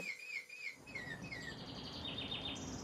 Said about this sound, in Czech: Teď zpívají hodiny.